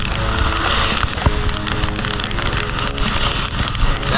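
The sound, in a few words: rain falling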